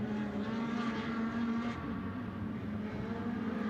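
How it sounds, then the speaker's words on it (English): Audi GT2 race car engine at Spa-Francorchamps during a Fanatec GT2 European Series race, a loud, sustained droning note with steady harmonics, held through the lap near the chicane with no pause. "Oh so distinctive engine note of the Audis, of which there are plenty."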